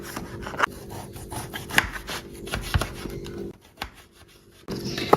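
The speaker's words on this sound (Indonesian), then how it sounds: "Ini dipotong tipis-tipis." Limes sliced thinly with a knife on a board, a series of soft, close cutting and rubbing strokes with brief taps and pauses, fairly quiet with no speech.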